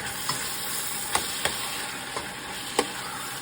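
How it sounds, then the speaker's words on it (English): A pot of beans being stirred while it cooks for holiday rice, a steady simmering hiss broken by several distinct spoon scrapes and clacks against the pot, close and moderately loud with no voices. "Okay, I'm going to stir. Give that a stir."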